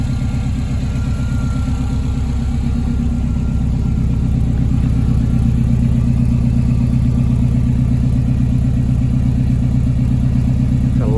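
A Subaru WRX engine fitted in the rear of a Mini idles with a deep, steady, loud rumble, its even low pulsing continuous and close, with no talking.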